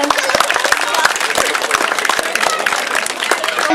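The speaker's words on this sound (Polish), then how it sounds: "I gromkie brawa dla dziewczyn, które nie zostały wybrane" Audience applause for the contestants at the Miss Fali 2009 pageant semifinal: dense, steady clapping from a crowd that fills the whole stretch, with a voice talking over it.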